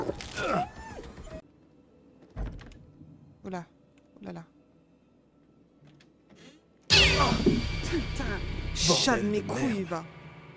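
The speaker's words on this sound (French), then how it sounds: "une saleté de chat" In the horror video game Devil In Me, a cat meows several times, short drawn-out cries scattered over a quiet stretch, then a dense burst of game sound overlaps the last ones while a person talks.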